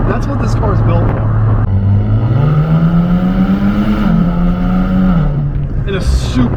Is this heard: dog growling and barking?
no